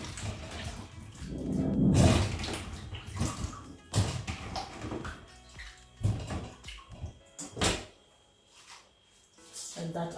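Irish potatoes are rinsed under running water in a kitchen, a rushing splash that swells, then breaks into intermittent pours and drips as the potatoes are handled.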